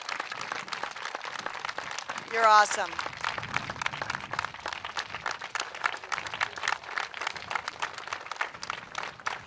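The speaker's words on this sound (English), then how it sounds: "A standing applause for our..." Standing applause breaks out at a Youth Summit town hall for the Colorado Teacher of the Year, a steady dense clatter of many hands running throughout, with a voice speaking over it.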